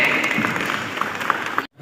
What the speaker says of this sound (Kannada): ಮುದ್ದಾದ ಬಂಧುಗೆ ಜೋರಾದ ಚಪ್ಪಾಳೆ ತಟ್ಟಲಿ.